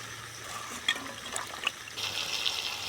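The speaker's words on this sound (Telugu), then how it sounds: "వంకాయలు కూడా వేసేస్తున్నాం. ఒకసారి కలిపేసుకున్నాము." Brinjal pieces are added to a cauliflower and tomato curry in a pan and stirred, giving soft sizzling and scraping with a few clinks, then a brighter hiss of frying toward the end.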